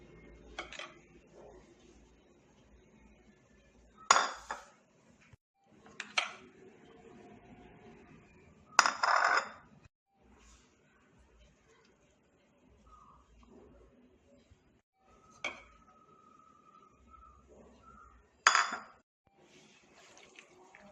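Duck meat being mixed with turmeric, pepper powder, salt and coconut oil in a metal vessel, with several loud, sharp clanks and clinks of utensil against pan spread between quiet stretches.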